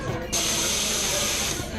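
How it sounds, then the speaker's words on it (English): A coffee-shop espresso machine's steam wand purges with a sudden loud, steady hiss that holds for over a second before cutting off, close up, amid faint background noise. "pull steam through it so it's nice and clean again"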